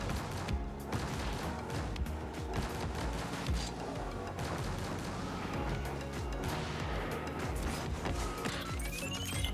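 A missile-barrage goal explosion from Rocket League's Airstrike item thunders as a dense, continuous string of blasts and crashes, loud and sustained throughout.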